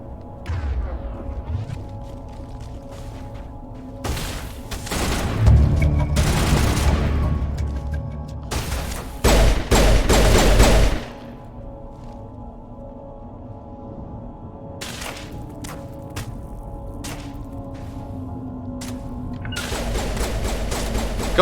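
Bursts of gunfire and booming impacts in the sci-fi shooter Mass Effect, loud clusters of shots separated by quieter stretches of low ambient hum, with a few isolated cracks later on.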